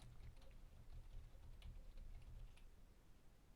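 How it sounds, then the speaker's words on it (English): Soft, rapid computer keyboard typing with scattered light mouse clicks, faint and close, over a low steady hum. "Now I am typing on a keyboard and using my mouse while I'm talking"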